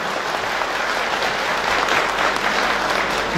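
Audience applause at a Turkish community gathering in Kaş, steady dense clapping throughout, loud and continuous with crowd noise and no speech.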